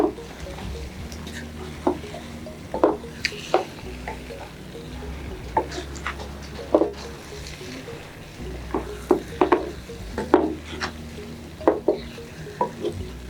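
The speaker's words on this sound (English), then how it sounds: "You mix it up together." Nkwobi mixture being stirred in a pot over very low heat, with a steady soft scraping texture and intermittent sharper clicks of the spoon against the pot, faint background hum throughout.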